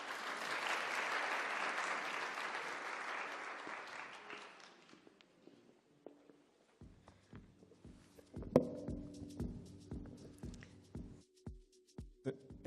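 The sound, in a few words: audience applause at a livestreamed launch event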